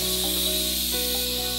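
A pot on a kitchen stove boils and steams with a steady, even hiss that does not change, close and fairly loud, with faint bubbling beneath it.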